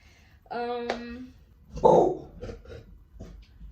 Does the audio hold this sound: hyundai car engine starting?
no